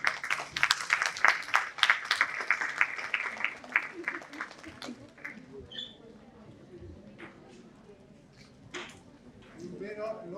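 Conference audience applause rings out loudly at first as a burst of many clapping hands, then thins and fades within a few seconds, giving way to quieter room sounds and scattered speech.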